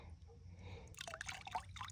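A small amount of water trickles and drips into a container during a gold test, soft and close, with a few brief splashy pours over faint background hum.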